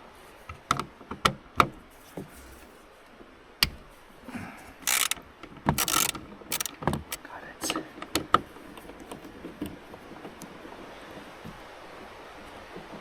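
A ratchet works 10 mm nuts off bolts holding a mirror on a trail-damaged vehicle outdoors by a river in winter, giving scattered sharp metallic clicks and short bursts of ratcheting over faint wind-like background.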